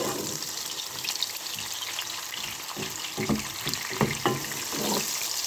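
Onions and cumin frying in a pan for a spicy sprouts and potato dish: a steady sizzle with bursts of crackle and scraping stirs toward the end, close and clear, with no talking.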